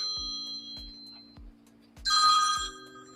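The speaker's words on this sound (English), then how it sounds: "Answer your phone, Big Gene." A phone rings nearby with a bright electronic ring burst over a steady, rhythmic thumping beat, and no voices are heard.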